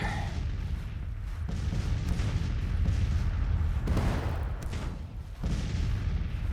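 Battlefield gunfire in Grand Tactician: The Civil War, with dense rolling volleys and booming musket and artillery reports overlapping continuously at a steady loud level, with no clear gaps between bursts.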